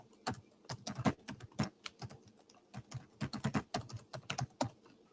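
Fast, uneven clatter of keys as an email address is typed on a computer keyboard, close and crisp with short pauses between bursts, no voices.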